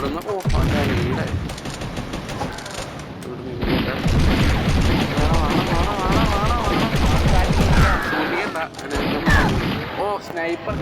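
Dense cartoonish gunfire, bursts and explosions from Mini Militia, a mobile shooter game, pile up almost nonstop, with a player talking excitedly over the battle throughout.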